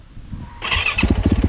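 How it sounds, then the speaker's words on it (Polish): A motorcycle engine catches and runs nearby, a loud squealing start followed by a steady, chugging idle pulse. "O, działa motocykl."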